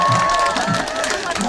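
Loud crowd cheering and clapping from an outdoor festival audience at a traditional Korean street performance, a roaring mass of voices and hands close by with a few heavier thumps underneath.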